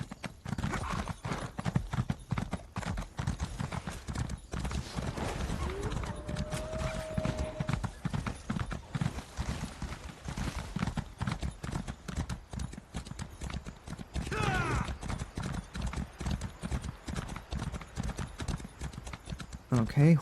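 Horse hooves clip-clop in the video game Elder Scrolls Online in a steady galloping rhythm that continues throughout, under intermittent game sounds and a brief whinny-like tone.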